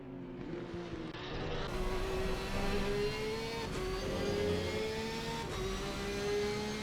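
A race car engine at the Kyalami two-hour race in a sim racing game drones at high revs, rising steadily in pitch with brief dips at gear changes, moderately loud and steady.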